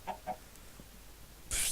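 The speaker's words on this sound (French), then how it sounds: "Par contre des poulets dans les grottes, je vois pas trop le délire" Chickens in a cave in a video game give two short clucks, then a brief louder burst near the end, fairly close against a quiet background.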